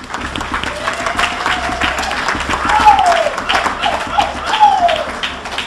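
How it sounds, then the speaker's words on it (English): A banquet audience at a high school fall sports event applauds the booster officers, a sustained round of clapping with a few whistles or whoops riding over it. "Nice round of applause for them."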